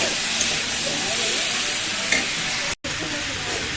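Food sizzles steadily in a pan over a low gas flame before spices go in, a constant close frying hiss with a brief dropout near the end.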